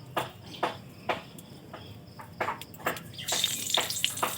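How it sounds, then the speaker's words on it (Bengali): Green chilies hit hot oil in a wok, crackling in scattered sharp pops that swell into a denser, hissing sizzle toward the end, fairly close and alone without speech. "তো এখন আমরা দিয়ে দিচ্ছি কাঁচা লঙ্কা"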